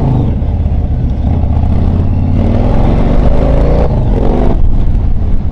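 A Yamaha XV1900 Star Raider cruiser motorcycle accelerating on the road, its big V-twin giving a loud, continuous deep rumble that climbs in pitch through the gears, heard from the rider's position with no talking.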